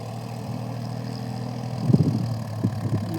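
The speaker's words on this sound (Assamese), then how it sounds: "এইয়া ইয়াতে ট্ৰেক্টৰ হাল বাই আছে" A tractor ploughing a field under an overcast sky, a steady low engine drone running throughout with a few slightly louder rumbling surges near the end.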